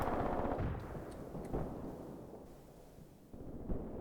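An artillery battery fires in the Graviteam Tactics wargame during forest fighting at a bridgehead. Heavy booming rumbles are followed by a long decay and a few scattered distant thuds, with no voices.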